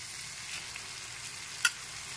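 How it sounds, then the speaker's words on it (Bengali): Marinated chicken cooks in a frying tomato masala, making a quiet, steady hiss with a single sharp clink of a utensil partway through. No voices. "এবার এর মধ্যে ম্যারিনেট করা চিকেনটা দিয়ে দিচ্ছি।"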